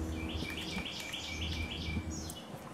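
A wild bird chirping outdoors, a quick run of bright repeated tweets close by, over a low rumbling background.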